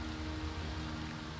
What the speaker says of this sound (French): la première pluie sur la planète